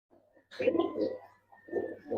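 Silver giribaj pigeons cooing up close, soft throaty coos in a few short bursts with brief pauses between.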